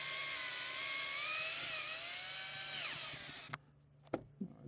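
Power tool whirring steadily as roof rack bolts are tightened on a Chevrolet Avalanche during an overland rack install, a sustained close drive that rises and falls in pitch then stops, followed by a few sharp clicks and knocks.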